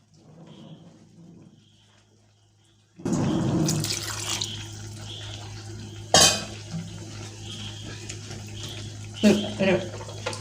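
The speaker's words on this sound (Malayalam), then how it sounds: "കുറച്ചും കൂടി വെള്ളം ഒഴിക്കാം." Water poured into a pot of jackfruit seed masala curry, starting abruptly after a quiet stretch as a steady close splashing pour with a couple of louder clanks, while someone talks.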